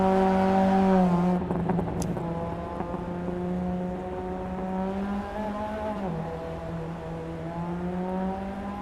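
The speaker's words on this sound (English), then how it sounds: "it's got a good engine sound. I mean, for a car of its day, you know, from its era. You can hear the resonating of the exhaust" Older car engine in Assetto Corsa EVO, a loud sustained drone with strong exhaust resonance, its pitch dipping and climbing gradually as revs shift, close and steady with no talk.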